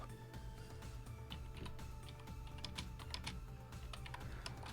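Steady, quick typing on a computer keyboard while entering code, a continuous run of fine key clicks close by, fairly quiet over a low background hum.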